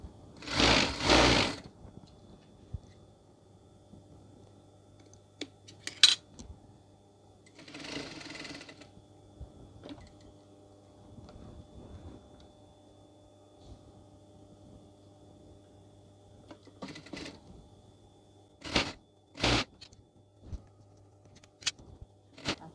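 Sewing machine stitching a piped seam on a zipped scatter cushion, heard in several short bursts of rapid mechanical chatter separated by quiet pauses, over a faint steady hum, close by.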